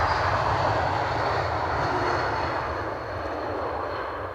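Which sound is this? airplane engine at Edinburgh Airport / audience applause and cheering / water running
airplane engine at Edinburgh Airport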